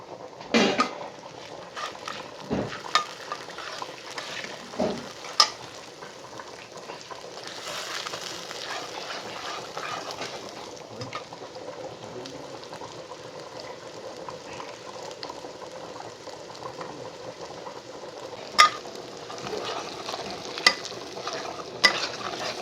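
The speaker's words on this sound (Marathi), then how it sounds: "आता जरा मसाला तळून घेते खडा मसाला वाटून घेतलेला आहे" Ground whole-spice masala frying in a pan on a wood-fired stove for a spicy chicken curry, a soft steady sizzle broken by occasional clinks and scrapes of a utensil stirring against the pan.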